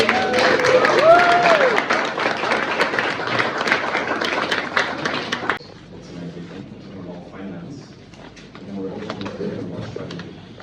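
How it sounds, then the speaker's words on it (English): Applause from a crowd at a business networking event in Lagos, Nigeria: dense, steady clapping for several seconds that cuts off abruptly, followed by quieter room sound. "Ladies and gentlemen from all over Nigeria. A round of applause."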